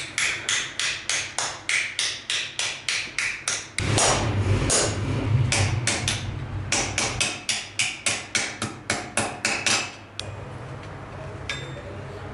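Hammer and chisel strike metal while a master engraves a rosewater sprinkler in Tehran, making rapid, evenly spaced sharp taps in bursts with a short steadier scraping passage between them, close and loud with no talk.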